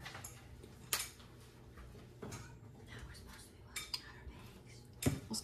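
Cutlery and dishes clink sporadically as children eat breakfast in the background of a kitchen, with a few sharp metallic taps standing out over a quiet room.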